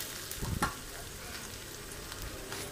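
Chickpeas fry in oil with onion and green chili, a soft continuous sizzle with a few stirring scrapes and knocks near the start, quiet and close, with no talk.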